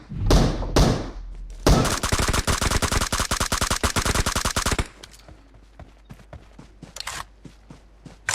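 Rapid automatic gunfire in a shooter video game, loud sustained bursts of dense rhythmic shots, then sparser single shots and thuds trailing off.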